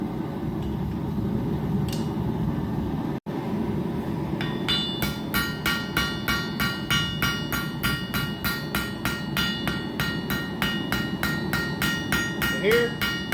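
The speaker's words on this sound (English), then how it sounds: "using different angles of my hammer to make different types of marks on the steel" A blacksmith's hammer rings against steel while forging a split cross and horseshoe piece, starting with a few scattered blows and settling into a steady, fast run of sharp, bright strikes, close and loud.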